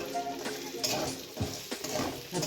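Chopped garlic and green chili fry in melted butter in a pan while being stirred. There is a soft, low sizzle broken by scraping and clinking strokes of the spoon.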